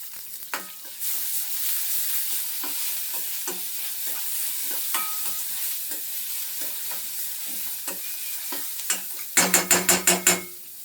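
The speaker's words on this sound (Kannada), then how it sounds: "ಅದು ಈರುಳ್ಳಿ ಚೆನ್ನಾಗಿ ಫ್ರೈ ಆಗೋಷ್ಟಕ್ಕೆ ಒಂಚೂರು ಹಂಗೆ ಕರಿಬೇವು ಹಾಕ್ಕೊಂತೀನಿ ನಾನು" Onion and curry leaves frying in a pan for an egg gravy, a soft steady sizzle with scattered spatula taps, ending in a quick burst of loud metallic knocks against the pan.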